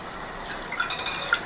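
Water pours into a pot of milk on a gas stove with a bubbling, gurgling splash, brief and close, with small drips sounding through the steady flow.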